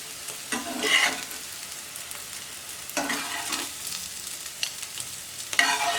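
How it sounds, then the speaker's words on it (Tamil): Potatoes frying golden in a pan give a soft, continuous sizzle. Three or four brief louder bursts of spatter and stirring break through at intervals, with no talking. "இப்போ இதை பேனில் நம்ம ஃப்ரை பண்ணி எடுத்துடலாம்"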